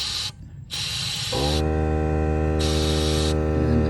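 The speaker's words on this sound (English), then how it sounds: "the compressor started running because it doesn't have much capacity, but I'm just blowing air up in there" A small-capacity air compressor kicks on with a strong humming drone while a hose nozzle blasts air in bursts into a 4Runner air conditioning drain, the loud hiss cutting in and out over the motor.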